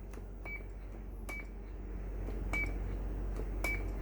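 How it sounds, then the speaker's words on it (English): A President HR2510 10-meter radio emits short electronic roger beeps, four brief tones spaced about a second apart over a quiet background hiss. "They do have a Roger beep."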